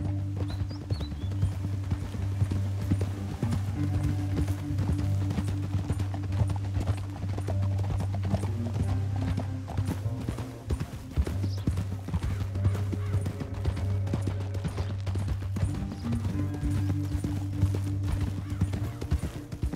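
Steady clip-clop of galloping horse hooves in the video game Red Dead Redemption 2, with a low rumbling musical drone underneath, continuous and fairly loud throughout.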